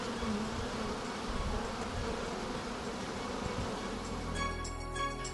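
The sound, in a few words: honeybees buzzing around a beehive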